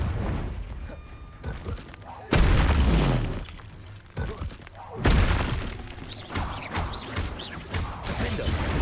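Confringo spell blasts in the Hogwarts Legacy video game, two loud booming explosions with crackling debris over a busy game soundtrack and shouted spell calls.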